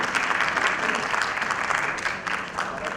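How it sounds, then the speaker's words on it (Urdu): Sustained applause from an audience at a certificate distribution ceremony for an IT school, a steady dense wash of clapping that dips briefly and then carries on. "تالیوں سے ایک مرتبہ پھر استقبال کیجیے"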